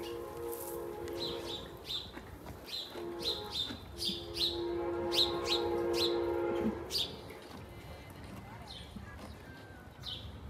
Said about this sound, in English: there's a fucking bird in here